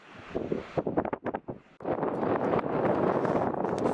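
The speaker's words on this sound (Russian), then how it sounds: "Давление растет, ветер крепчает." Strong storm wind on the Lena River buffets the microphone during a sailing-trimaran expedition, first in ragged gusty bursts, then a loud continuous roar.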